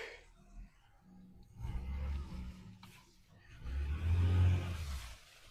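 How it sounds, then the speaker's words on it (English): A pickup truck backs up with its engine rumbling low, then revving louder in two swelling surges, heard from a short distance outdoors. "She's gonna be backing up the truck."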